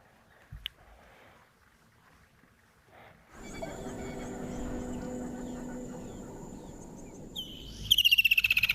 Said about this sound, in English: Woodland kingfisher.